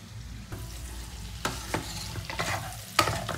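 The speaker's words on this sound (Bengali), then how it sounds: "সব ইনগ্রেডিয়েন্টস দিয়ে কিন্তু আমি খুব ভালো করে তেলের উপর কষি এবারে নেড়ে নিয়েছি।" Chilli chicken ingredients are stir-fried in hot oil, giving a close, continuous sizzle broken by scraping stirs and a sharp clink of a utensil near the end. No one speaks.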